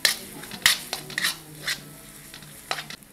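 Spice paste of coriander powder, turmeric and chilli powder roasting and being stirred in a pan, with a few sharp scraping clinks of the spoon over a soft, steady sizzle, close and alone.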